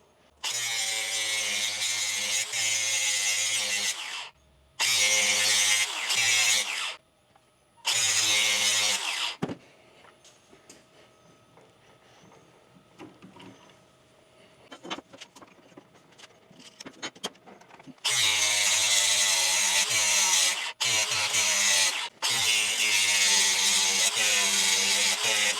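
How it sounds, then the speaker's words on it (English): An angle grinder sharpens lawn mower blades in loud, harsh bursts of grinding with abrupt starts and stops, and a quieter stretch of handling and clanking between the bursts. "You're using a grinder on mower blades."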